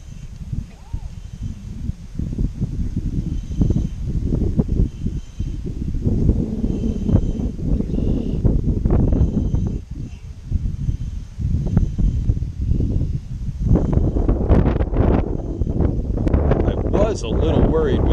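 Wind buffets the microphone at a bass pond at night, a steady rumbling roar through the whole stretch that grows gustier near the end, while someone talks over it.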